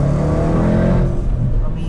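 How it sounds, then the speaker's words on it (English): A Range Rover SVR with a 575 bhp engine and loud exhaust revs close by, a deep, throaty roar that holds strong and then eases slightly over a couple of seconds. "I mean, that's with the loud exhaust."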